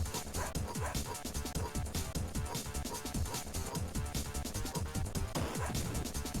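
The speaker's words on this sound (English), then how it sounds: "now you gotta beat up dogs!" Dogs bark, yip and whimper as enemies in a beat 'em up video game, short repeated cries over a dense, loud mix of game music and punching effects running the whole time.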